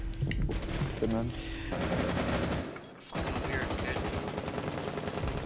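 Rapid automatic gunfire from a Rainbow Six Siege match, loud dense bursts filling most of the clip with a brief lull near the middle before firing resumes.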